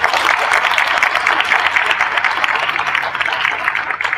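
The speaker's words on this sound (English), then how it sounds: "Let's give them a round of applause." Audience applause at an education forum, a dense, steady wash of many hands clapping together that holds at a fairly loud, even level throughout.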